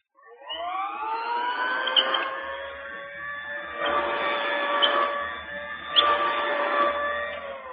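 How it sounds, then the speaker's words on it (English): Old-style vacuum sweeper passing back and forth over a rug as a sound effect, a steady whining motor hum that surges and swells in three passes, close and alone without talk. "The machine would be passing back and forth over a rug."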